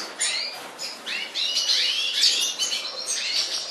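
A female cinnamon canary chirping close up, a steady run of bright tweets and short trills with no talking.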